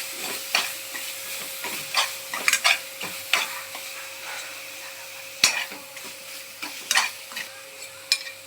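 Chole masala sautéing in a pan, a soft continuous sizzle broken by repeated scraping stirs and sharp spoon clicks against the metal, close and unaccompanied by talk.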